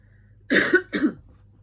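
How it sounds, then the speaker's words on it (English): A person clears their throat twice in quick succession, close and fairly loud, against a quiet background hum. "I feel like I want to clear my throat"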